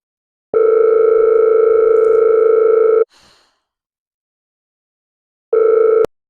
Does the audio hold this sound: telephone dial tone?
yes